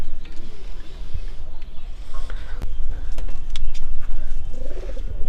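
Pigeons in a coop coo and flutter close by, low throaty calls repeating among soft rustling and a few sharp clicks, continuous over a busy background.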